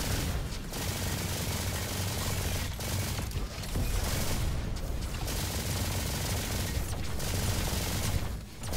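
The Valkyrie rifle in the video game Roboquest fires loudly and rapidly in sustained bursts, with only brief gaps between streams of shots.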